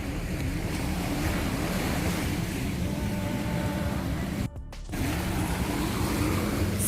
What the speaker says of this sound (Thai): เสียงคลื่นทะเลค่ะ